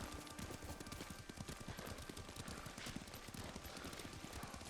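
Horse hooves clip-clopping in the video game Ghost of Tsushima, a steady rapid galloping rhythm under a dense, continuous background of game sound, fairly quiet overall.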